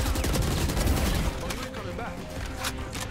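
Gunfire in the shooter game Valorant, a dense, continuous rattle of rapid shots that eases off partway through, with a voice speaking over the shooting.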